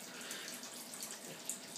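Cooling water flows steadily through a moonshine pot still, a soft continuous trickling rush with no speech.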